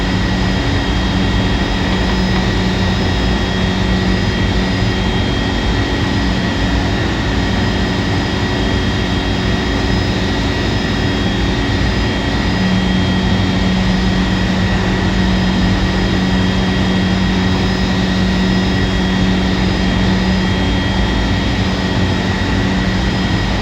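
Jet engines of a PMDG 747-400 in Singapore Airlines livery, climbing out of Vancouver in early morning within a flight simulator, a steady loud roar with whining tonal hum throughout, no voices.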